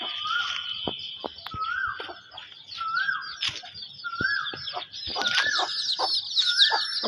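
A flock of village chicks chirps continuously in high, busy peeps while a hen repeats short rising clucks about once a second, with occasional wing flaps and knocks, all close by and free of speech.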